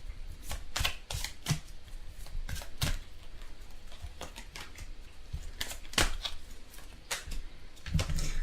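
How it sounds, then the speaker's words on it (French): Tarot cards being shuffled by hand, quiet irregular riffles and taps in short bursts, close by with no talking. "Je vais juste mélanger."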